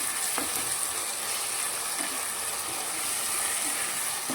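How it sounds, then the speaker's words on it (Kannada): Chopped tomatoes fry in hot oil for a tomato gojju, giving a steady close sizzle with faint stirring scrapes and a few brief clicks, no voices. "ಇದೆಲ್ಲನೂ ಎಣ್ಣೆಯಲ್ಲಿ ಫ್ರೈ ಆಗಬೇಕು"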